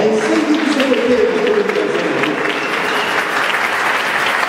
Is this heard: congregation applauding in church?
yes